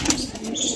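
Pigeons coo softly up close at a bird seller's in Firozabad, India, a short burst of low throaty cooing with a faint flutter near the start.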